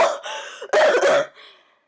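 A person coughs and gags in harsh bursts: a short cough, then a louder, longer retching fit that trails off into a faint wheeze.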